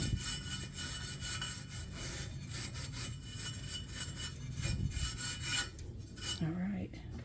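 Steel wool lightly scraping the cast iron surface of a Blue Star grill after cooking steak, a steady rhythmic rasping and rubbing that continues close and fairly loud, with a brief metallic clink near the end.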